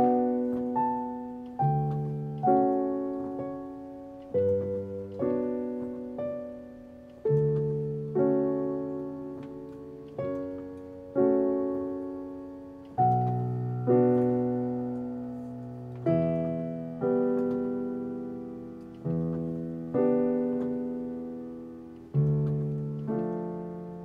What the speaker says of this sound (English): So it sounds like this, the second part.